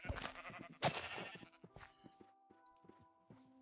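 Several sheep bleat in a Minecraft world, a few short blocky bleats scattered among light footstep clicks, fairly faint and with no talking over them.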